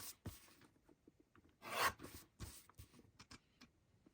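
Paper pictures are trimmed for a scrapbook layout in soft, close, quiet strokes. A handful of short rasping slices and light rubs come with small pauses between them, and one longer swipe stands out in the middle.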